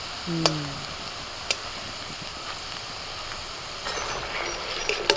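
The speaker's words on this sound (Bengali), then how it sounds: "এইভাবে আমি ভেজে নেবো এগুলো দেখো একটা সুন্দর কালার আসছে" Pea kebabs deep-frying in hot oil give a steady, close sizzling hiss with occasional soft clinks of a utensil, while someone speaks briefly over it.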